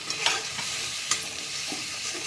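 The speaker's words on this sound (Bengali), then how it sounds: "এবার এই মশলাটা কষিয়ে নেব।" Masala of tomato, raisin and chili paste sautéing in a pan, with a soft continuous sizzle and several distinct scrapes of a spatula stirring it, close and unaccompanied by speech.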